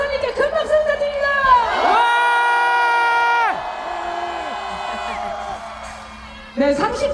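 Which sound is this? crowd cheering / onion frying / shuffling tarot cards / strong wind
crowd cheering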